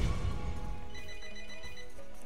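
Telephone ringing amid a Medieval II Total War: Europa Barbarorum II battle, a short steady electronic tone pattern over a dense bed of game sound, fairly loud and continuous.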